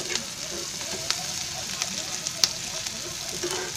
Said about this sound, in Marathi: त्याची मिरची पण तेलामध्ये टाकायची, म्हणजे ती पण तळून निघते